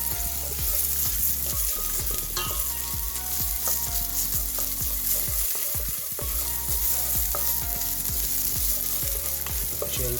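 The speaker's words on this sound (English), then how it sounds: "I'm going to add the tomato puree, and then I'm going to mix it with the onions" Onions and tomato puree frying together for a takeaway-style chicken Madras curry, a steady loud sizzle with repeated scraping stirs of the spoon in a rhythmic pattern throughout, no voices.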